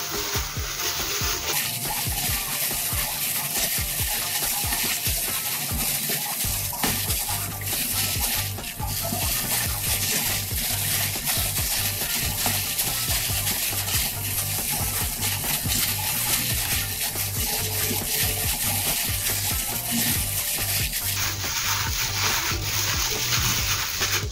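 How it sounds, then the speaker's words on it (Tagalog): Papaya okoy batter is stirred in a bowl, a steady wet mixing and scraping that runs without pause for the whole stretch, close and moderately loud, with a bright hiss at the start and end. "Haluin lang po natin."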